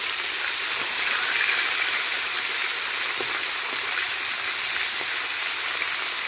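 Turned tilapia pieces fry in hot oil in a pan, producing a loud, unbroken sizzling hiss close by, dotted with light crackles and occasional soft taps.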